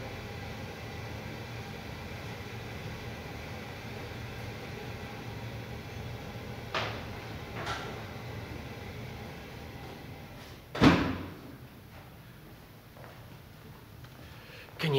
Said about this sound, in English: Just going to go and shut that door to the heater.